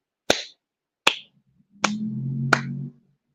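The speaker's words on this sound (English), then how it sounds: "Let me clap my hands." A man claps his hands four times in sharp, evenly spaced single claps, close and alone, with a brief low voiced hum under the last two.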